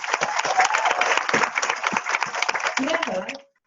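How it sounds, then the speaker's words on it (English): A room of people at a training day applauds together, a dense burst of clapping that holds steady and then cuts off sharply, with faint voices and a brief whoop mixed in. "So a massive round of applause."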